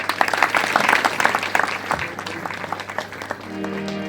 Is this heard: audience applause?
yes